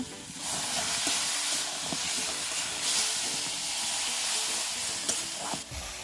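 A spice paste of cumin, coriander and chilli powder sautés in a pan with a little water for a chicken skin and calabash curry. A loud, continuous sizzling hiss runs throughout, broken by occasional scraping strokes.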